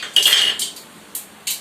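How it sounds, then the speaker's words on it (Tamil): Dishes, pots and cutlery being washed by hand, with close clinks and scrapes of metal and crockery in short bursts, one longer rattle followed by three separate knocks. "வீடியோல வரும்போது என்னை பாத்திரம் கழுவ சொல்றியே"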